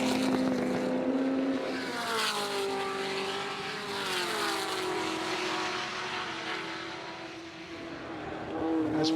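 Ford GT40 race cars lap at the Goodwood Revival in the 2013 Whitsun Trophy, engines roaring loudly with rising and falling pitch as they accelerate and pass through the corners.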